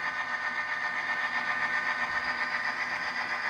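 A Bachmann Pennsylvania F7 model locomotive with DCC sound throttles up, giving off a steady, close, continuous diesel engine drone with a slight rhythmic throb and no pauses.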